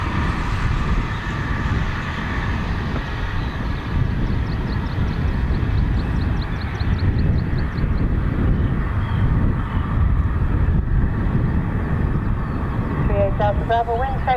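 An airliner takes off from Dublin Airport with a steady, broad jet roar heard from a distance for the whole stretch, while voices talk over it.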